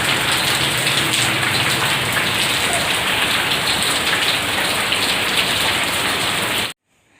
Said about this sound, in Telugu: చూశారు కదా అసలు ఎంత పెద్ద వర్షం పడుతుంది